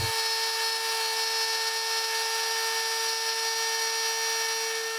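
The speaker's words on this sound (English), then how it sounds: "I do this with a plunge router about 1/8 of an inch at each pass." A plunge router cutting quarter-inch-wide mortises into wood about an eighth of an inch per pass gives off a loud, steady high-pitched whine that holds without a break throughout.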